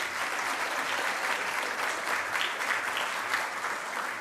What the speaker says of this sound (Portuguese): Uma salva de palmas para o nosso querido irmão.